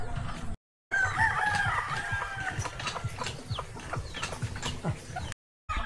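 A rooster among pet chickens of mixed-colored, crossbred stock crows loudly and close, its drawn-out call rising over soft clucks and background farmyard noise.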